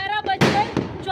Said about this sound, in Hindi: किस तरीके से दिल्ली के अंदर पटाखे फोड़े जा रहे हैं